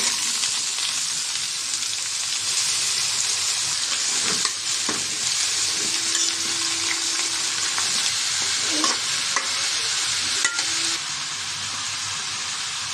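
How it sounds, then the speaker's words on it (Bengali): Ridge gourd, pumpkin and potato pieces stir-fry in a pan over fried onion and garlic, making a dense, continuous hiss and sizzle close up, with occasional scraping and stirring knocks and a brief faint whine. "সবজিটা দিয়ে দিলাম।"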